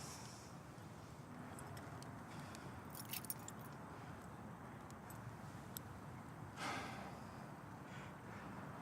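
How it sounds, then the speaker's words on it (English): Keys jangle briefly in a tense movie scene, a few faint metallic clinks and rattles over a quiet background hiss, with one brighter burst near the end and no voices. "Keys."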